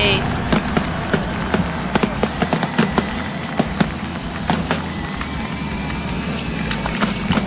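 Fireworks at a virtual pirate race across Rosehaven: a steady stream of small, sharp pops and crackles, fairly close and even-paced, over a noisy crowd-like background with people talking.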